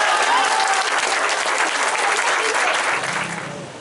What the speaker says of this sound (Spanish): Un buen aplauso para don Ángel.